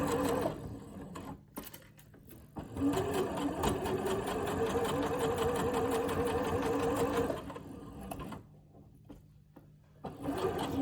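A sewing machine stitches a seam in a lesson setting, its rapid mechanical whirring and clatter running steadily for several seconds between short stops, close and loud with no talking.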